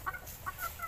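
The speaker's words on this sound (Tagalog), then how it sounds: "yung kanyang mga yellow legged dads ni Doc Marvin Rocaport" Yellow-legged gamefowl chickens give a few faint, short clucks on a backyard farm, heard quietly at a distance, with no talking.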